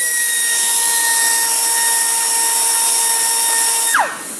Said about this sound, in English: when you drill a hole back, use this pointed burr tool